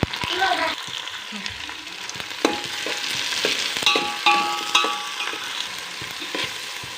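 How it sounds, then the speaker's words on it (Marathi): Loud, close sizzling and frying as tomatoes are stirred into softened onions in a pan for veg biryani, with scraping stirs and clinks over a steady hiss. "आता त्याच्यामध्ये टॅमॅटो टाकूया टॅमॅटो टाकून घ्यायचा आहे"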